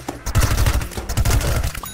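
Rapid automatic gunfire from a Gatling weapon in the shooter game Plants vs Zombies Garden Warfare, with dense, close, loud bursts that run almost nonstop.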